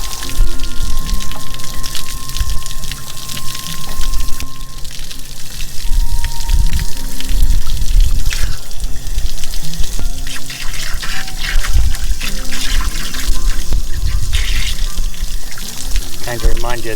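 Water and loosened sediment rush and splash out of an RV hot water tank drain, a steady loud pouring flow with spattering drips that runs the whole time, while people talk over it.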